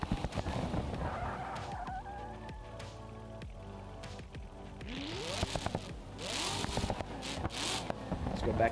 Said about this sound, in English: I'm going to pull the handbrake.